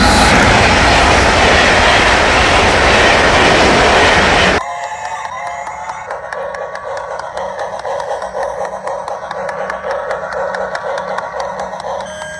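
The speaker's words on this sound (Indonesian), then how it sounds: "ada kereta api tercepat di dunia. Ini kereta listrik." A toy electric bullet train sold as the world's fastest: a loud, harsh rushing roar for several seconds that cuts off abruptly into a quieter electronic whirring with repeated beeping tones, close up and without speech.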